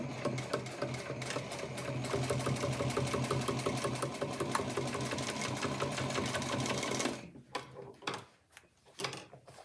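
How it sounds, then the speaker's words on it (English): A sewing machine stitches Vakoflex adjustable pins into a drapery heading, a fast steady mechanical chatter running for several seconds before it stops, leaving a few faint clicks and handling knocks. "I can continue sewing the rest of the Vakoflex adjustable pins in the drapery heading."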